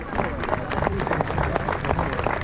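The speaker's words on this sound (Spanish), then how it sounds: "se aplaude el jugador" Dense, steady clapping from a large crowd at a football match, applauding an injured player, a continuous rattle of applause with voices mixed in underneath.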